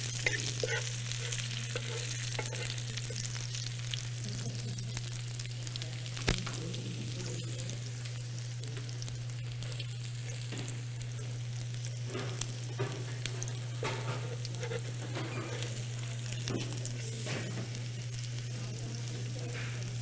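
Plant-based batter frying in a pan, a steady close sizzle and crackle with a constant low hum underneath and occasional pops, no talking.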